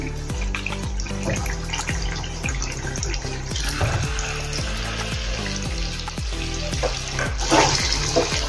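Water is poured into thick mung and urad dal batter, a steady liquid splashing and trickling that runs on for several seconds, with small kitchen clatters mixed in.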